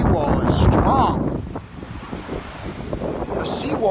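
Ocean waves surge and crash against a seawall after a Boston storm, loud and close, with heavy wind buffeting the microphone and brief talking mixed in.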